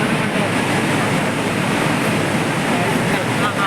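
Bharachukki waterfall near Mysore pours with a steady, dense roar of rushing water, constant and loud throughout with no pauses.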